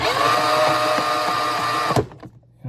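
A Ryobi 18-volt auger spins freely with nothing clamped, producing a steady motor whine for about two seconds before cutting off abruptly into quiet handling noise.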